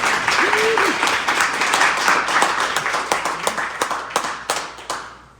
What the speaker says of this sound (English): Let's hear it once again for Rose Morrison